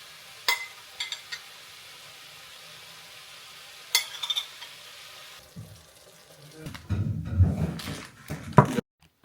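Dish being stirred after a splash of fish sauce in a home kitchen: scattered scraping clinks early, then a denser burst of utensil clatter and sizzling near the end, close and moderately loud, with no talk.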